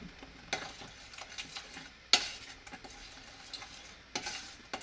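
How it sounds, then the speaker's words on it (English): Food being stirred in a pot for a homemade pizza loaf, quiet scraping strokes and soft taps of a utensil recurring in an uneven rhythm over a low background sizzle. "let me stir my stuff"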